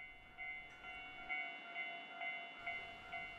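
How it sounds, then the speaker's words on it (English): A modern Hankai line tram at Shinimamiya Ekimae station in Osaka sounds a faint, repeated high tonal chime or bell about six times in a steady rhythm over a low background hum. "The tram that you're about to see is a modern one"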